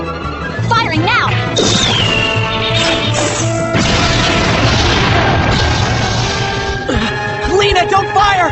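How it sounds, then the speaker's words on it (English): A loud, crashing beam cannon blast from the anime Masou Kishin Cybuster, with booming impacts and a sweeping high tone, set over continuous music and effects. "Aim the beam cannon at the creature."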